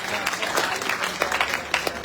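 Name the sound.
audience applause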